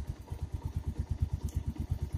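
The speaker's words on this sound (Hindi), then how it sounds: "now let me turn on the bike" A Bajaj Pulsar 220F motorcycle idles with a quick, even, low thumping pulse that stays fairly faint and steady throughout, with no one talking.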